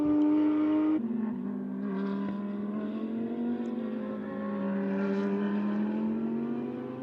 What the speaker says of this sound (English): you see an Audi R8 LMS GT4 up close and personal with a GT3 Evo 2